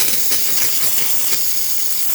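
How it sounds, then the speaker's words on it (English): The steam wand of a freshly tuned-up Rancilio espresso machine releases a steady, loud, continuous hiss of steam at close range, even and unbroken with no talking. "machine steaming really well."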